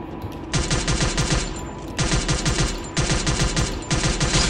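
Rapid automatic gunfire in Garena Free Fire, played with a steering wheel controller, coming in three loud, dense bursts of fast repeated shots with brief gaps between them.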